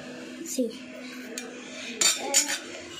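Ingredients are mixed in a bowl with a utensil, a few sharp clinks and scrapes against the dish at a close distance, with faint background hum between the knocks.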